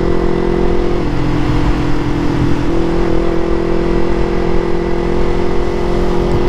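A Yamaha MT25 250cc motorcycle engine drones steadily and loudly up close while the bike is ridden, holding an even hum with slight rises in pitch and no voices.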